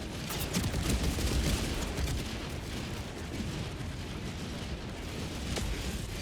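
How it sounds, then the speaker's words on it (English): Sustained dense barrage of loud explosions and booming gunfire in Helldivers 2, an orbital barrage pounding the ground in a continuous rumbling roar with sharper blasts cutting through, no voices. "Firing orbital barrage."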